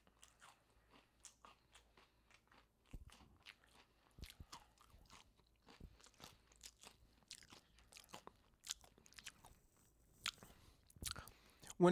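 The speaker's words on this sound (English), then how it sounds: "I'm going to be eating a lot, so if you guys don't like chewing, I'm so sorry" Food being chewed close to the mic with sharp, irregular crunches and bites that come steadily and grow louder toward the end, with faint breathy mouth sounds between them.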